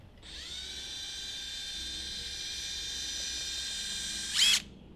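A power drill whirs at a steady high pitch for several seconds close by, then revs briefly louder before stopping abruptly.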